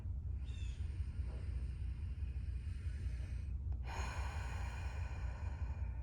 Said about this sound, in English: You have the victorious breath